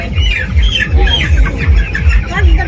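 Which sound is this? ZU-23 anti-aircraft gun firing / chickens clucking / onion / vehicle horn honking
chickens clucking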